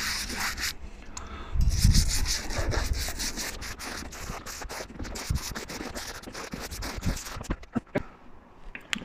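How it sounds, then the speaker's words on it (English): Stiff brush scrubbing a wet leather walking boot after it is dipped in water: close, rhythmic rubbing and scratching strokes, with a splash of water early on, then sharper brush flicks toward the end. "So I'm going to dip the boot in, get it wet, and then I'm going to start scrubbing."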